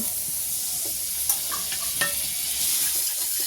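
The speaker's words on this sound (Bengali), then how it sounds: "এবার কড়াইয়ে মাখন দিয়ে দেব" Butter melting in a hot kadai hisses with a constant high sizzle, while a utensil scrapes and taps against the pan a few times.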